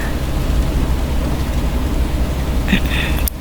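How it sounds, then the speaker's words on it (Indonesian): Steady rain drums on a car body at night, a dense, even patter heard from inside the vehicle, with a faint brief rustle near the end. "Mending kita pakai waktunya buat istirahat sambil di dalam mobil menikmati hujan."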